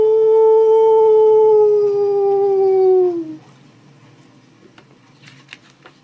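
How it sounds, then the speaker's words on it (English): A single long, eerie wolf howl rings out loud and clear, holding a steady pitch before sliding down and cutting off, followed by quiet with faint scattered noises. "eerie howling fills the valley"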